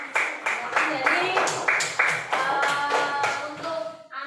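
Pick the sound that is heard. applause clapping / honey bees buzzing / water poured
applause clapping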